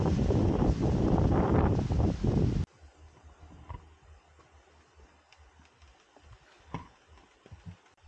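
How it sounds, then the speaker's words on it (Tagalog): Strong wind buffets the microphone on a grassy hilltop at Quitinday Hills. A loud, dense roar of gusts stops abruptly and gives way to quieter, scattered rustling and light knocks. "Lakas ng hangin."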